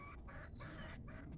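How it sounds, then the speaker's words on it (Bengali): A pet quail calling, short bursts of clucking chirps in a quick rhythm, close and fairly clear over a constant background noise. "ওটা কি কোয়েল পাখি?"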